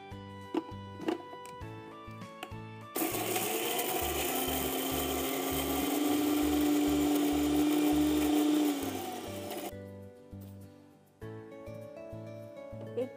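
An electric mixer grinder whirs loudly as it grinds dried Kashmiri chillies, half an inch of ginger and a small tomato into a paste. The steady run lasts several seconds, with background music before and after.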